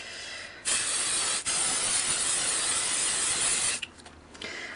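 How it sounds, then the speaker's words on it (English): Aerosol spray adhesive hissing from a can in one continuous burst of about three seconds, close and steady, with a short break near the start and quiet afterward. "when you spray it, just give it like a couple of seconds just to let the propellant disappear"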